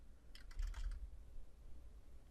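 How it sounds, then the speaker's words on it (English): A short burst of keystrokes on a computer keyboard, a quick run of light clicks lasting about half a second over a low background hum, with no voices. "let me type /recording here"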